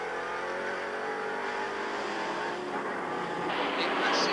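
Ford Capri Trans-Am race cars roar around the Trois-Rivières street circuit in a 1984 race, a steady loud engine drone with shifting pitch, overlaid by commentary.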